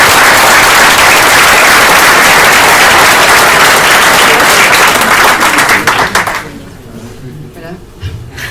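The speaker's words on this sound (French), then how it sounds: "C'est un tonnerre d'applaudissements." A conference audience bursts into loud, dense applause that holds strong for about six seconds, then quickly fades to a few scattered claps and quieter room sound.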